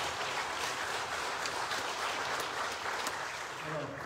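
Audience applause for the organisers of an autumn university conference, a dense, even wash of clapping held at a fairly quiet level throughout, with a faint voice emerging near the end.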